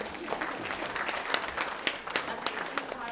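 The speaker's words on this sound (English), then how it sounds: "Round of applause, ladies and gentlemen." Audience applause greets a volunteer named Christine as she comes up onto the stage, a steady spread of clapping with a few sharper individual claps standing out across the few seconds.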